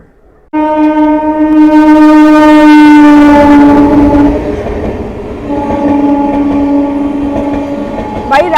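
The Vaishali Express pulls out of Aligarh Junction with a loud, sustained horn blast, then a second long horn over the steady rumble of the moving train.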